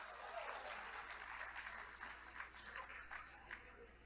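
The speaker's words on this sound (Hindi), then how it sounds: "हमारे लिए जब आप ताली बजाते हैं" Audience applause at a Bundeli poetry gathering, a steady wash of clapping from a crowd that holds at an even level for the whole stretch, with faint voices mixed in.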